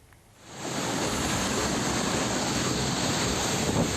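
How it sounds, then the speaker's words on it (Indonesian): Steady, loud roar of wind-driven rain, a dense broadband wash that swells in after a brief quieter start and holds constant. "Inilah video amatir hujan disertai angin kencang"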